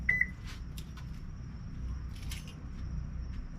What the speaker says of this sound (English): Go ahead and lock the car again.